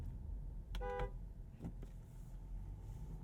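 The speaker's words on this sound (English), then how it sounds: "How does the horn sound?" A single short horn toot from a 2021 Land Rover Defender 110, fairly quiet and muffled, followed by faint vehicle sounds over a low steady engine rumble.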